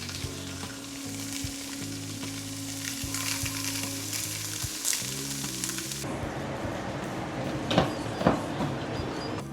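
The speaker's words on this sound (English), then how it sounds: "start frying it up, and then put the sauce in" Spam slices frying in a pan for spam musubi, a steady soft sizzle at low level with occasional stirring and scraping, alone with no talk.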